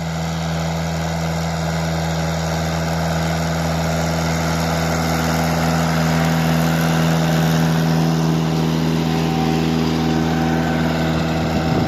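A Lovol tractor engine drones steadily and loudly while pulling a Bomet plow across a field, a constant low heavy rumble with no breaks and no voices.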